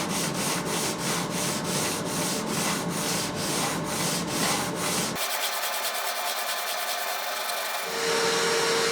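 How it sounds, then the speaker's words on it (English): A wooden guitar neck transition is sanded flat with steady, rhythmic back-and-forth rubbing strokes, close and continuous, later shifting to a smoother, finer scraping texture without any talk. "Just pulled out that index pin so that we can sand this transition perfectly flat"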